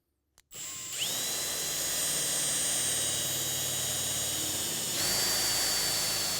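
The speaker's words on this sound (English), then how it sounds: "Drilling this first hole, I'm just making sure that the drill bit parallels my drilling guide" After a brief click, a power drill boring a hole in a work skiff build spins up close and loud, holding a steady high whine that shifts pitch slightly near the end.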